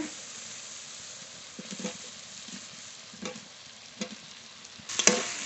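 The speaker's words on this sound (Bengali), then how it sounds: "আলুও মশলার সঙ্গে কষিয়ে নিয়েছি" Potatoes and whole tomatoes frying in masala in a pan, a soft constant sizzle broken by periodic scraping strokes of a spoon stirring, with a sharper clatter near the end.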